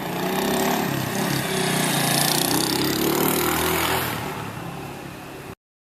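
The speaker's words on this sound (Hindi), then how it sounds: "ये है स्कूटर। अंग्रेजी में कहते हैं स्कूटर।" A scooter engine runs steadily and loudly at close range, with a continuous buzzing drone that eases off slightly near the end before cutting out abruptly.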